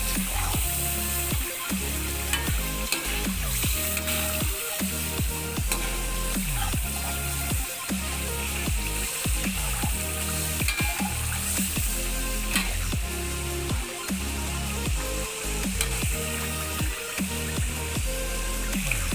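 Tomato rice with coriander leaves being mixed in a pan, with a steady sizzle under repeated scraping and stirring strokes, close and fairly loud, no talking.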